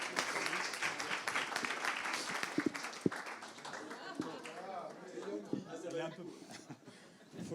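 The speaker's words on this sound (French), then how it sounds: "On peut l'applaudir." Audience at a Paris business conference applauding a quiz winner, scattered clapping mixed with chatter and light laughter, fairly faint and uneven, with people talking throughout.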